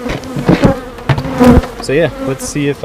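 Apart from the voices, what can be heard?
honeybees buzzing at a beehive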